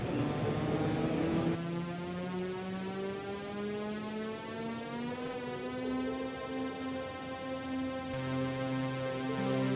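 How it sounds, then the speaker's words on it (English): A sustained sine wave tone from a UDO Super 6 synthesizer hums steadily and loudly, its pitch sliding slowly and a faint phasing shimmer moving through it, with no voices. "that's currently a sine wave"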